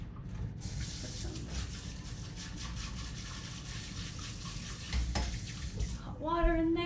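Hot water runs from a tap into a sink in a home kitchen, a steady rush with a few clinks of dishes and a short squeak near the end.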